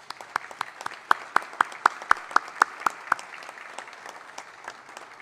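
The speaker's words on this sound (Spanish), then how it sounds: "a quienes por favor les pido otro fuerte aplauso para todas ellas" Scattered, distinct hand claps from a council session audience honoring award-winning Oaxacan women on International Women's Day, with a rhythmic run of sharp claps that thins out to faint patter.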